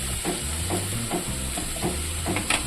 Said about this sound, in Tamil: போட்டு இது நல்லா கொஞ்சம் ஃப்ரை ஆகட்டும்